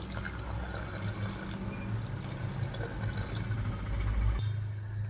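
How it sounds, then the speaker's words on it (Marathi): Hot water pours steadily into rice in a pressure cooker for an egg biryani, a continuous close splashing flow that swells louder near the end. "मी गरम पाणी केलेलं होतं ते ह्यामध्ये टाकून घेणार आहे"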